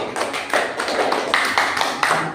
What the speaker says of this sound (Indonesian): Tepuk tangan dulu sebelum kita tanggapi